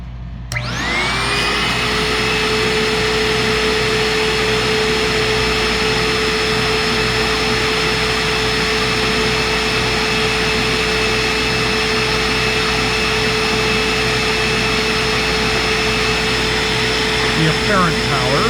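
A Sandia Super Raven backpack vacuum spins up quickly and then runs at a loud, steady whine with a constant motor drone, close by, while a person talks over it.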